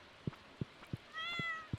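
A cat meows in Stardew Valley, one drawn-out game meow arriving among soft repeated thumps or footsteps, clear and close in a quiet scene.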